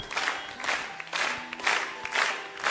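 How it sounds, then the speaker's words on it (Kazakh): Wedding guests at the Sultan Saray restaurant applaud in loud, sustained waves of clapping and cheering, with the swell rising and falling in roughly half-second pulses and no talk over it. "Анасын жақсы көретін адамдар шапалақты қаттыра құратын шығар."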